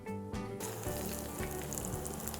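Aloo tikki potato cakes frying in a pan after being flipped, giving a dense steady sizzle with a low rhythmic pulsing hum underneath, close and continuous.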